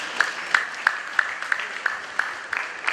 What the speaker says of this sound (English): Can you please clap yourself?